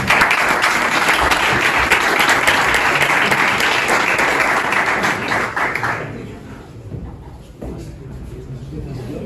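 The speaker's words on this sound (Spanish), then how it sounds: "un gran aplauso" Loud, dense applause from a crowd at a Bitcoin meetup in Barcelona fills the first six seconds, then fades into scattered claps and murmuring voices.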